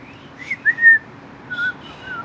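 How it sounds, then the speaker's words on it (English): A person whistles a few short, thin, wavering notes up close in a quiet room, with gaps between the attempts. "Can you just try to whistle again?"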